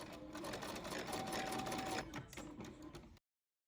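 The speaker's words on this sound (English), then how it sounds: "I'm going to do a 5/8 inch base stitch along one edge of the cuff" Sewing machine running a 5/8 inch base stitch along one edge of a fabric shirt cuff, a fast rattling stitch burst with a brief pause, then stopping abruptly.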